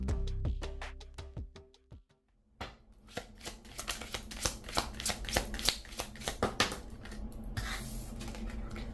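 Tarot cards from a Wilderness Collide deck being shuffled and pulled, giving a dense run of crisp riffling snaps and flicks, close and loud, after a few slower slaps at the start.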